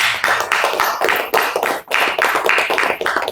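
Church congregation clapping in unison, a loud, close burst of rhythmic hand claps with a brief dip midway before resuming.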